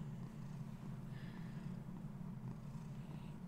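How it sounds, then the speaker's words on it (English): A cat purrs steadily during belly rubs, a close, low, continuous rumble with a faint pulsing rhythm and no voices. "My cat's getting belly rubs, so he's loving it. He's purring."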